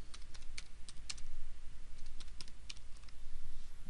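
Steady typing on a computer keyboard while entering a test failure comment, a rapid irregular run of crisp close keystrokes with no talk.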